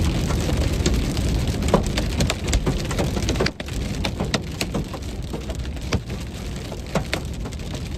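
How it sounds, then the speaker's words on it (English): Quarter-sized hail falls during a North Dakota thunderstorm. Sharp ticks and clatters sound over a dense, steady patter of impacts that stays close and fairly loud throughout. "We're getting hail now."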